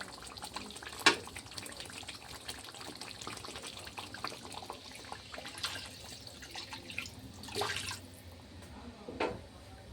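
A glass of water is poured into a pot of patavadi rassa curry in a home kitchen. It comes as a few soft, faint splashing bursts separated by quiet stretches.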